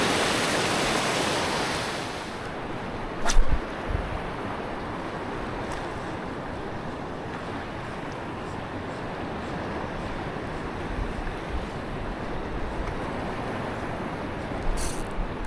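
A broad wash of ocean surf with strong waves rushes steadily, loud at first and then a softer continuous roar, with a couple of brief knocks and no speech.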